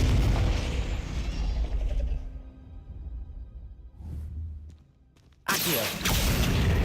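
Confringo blasting spell in a Harry Potter game, a heavy booming explosion with whooshing debris that fades to near quiet before a second loud burst hits.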